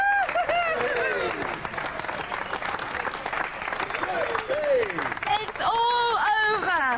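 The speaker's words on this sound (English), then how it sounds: "Ladies and gentlemen, give them a round of applause." A studio audience at a robot combat arena show breaks into loud, sustained applause and cheering, while an announcer's voice carries over the crowd.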